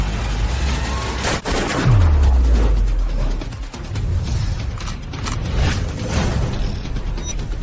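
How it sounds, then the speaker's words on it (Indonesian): A gunshot in a film scene with a sniper rifle, a sharp, loud crack set among dense cinematic effects, followed by a deep descending boom and a second hard impact. "Saya akan menembak Anda sekarang."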